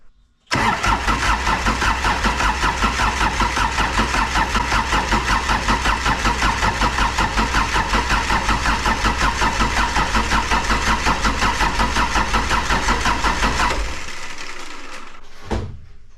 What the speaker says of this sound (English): So let's crank this thing until we get some fuel squirting out there